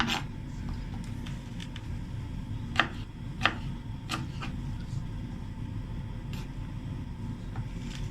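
Sharp cleaver blows chopping mutton goat trotters into big pieces, several distinct knocks at irregular intervals, two of them loud, over a steady kitchen background.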